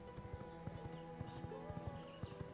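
A horse's hooves clip-clopping in the V Rising video game, a quick steady trotting rhythm of sharp knocks, close and clear.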